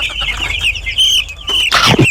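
Chicken clucking up close, a run of short throaty clucks followed by a louder squawking burst near the end.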